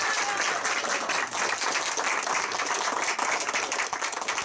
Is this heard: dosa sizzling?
no